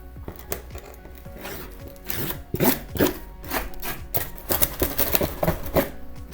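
A serrated knife saws into a brittle 3D-printed plastic part, heard as rapid, scratchy strokes and crackles that grow louder and denser partway through, close up with no talking.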